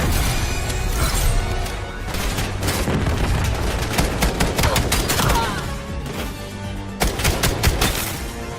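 Rapid semi-automatic rifle fire in the Call of Duty Black Ops 7 video game, loud continuous volleys of shots with impacts and crashes, a brief lull before another burst at the end.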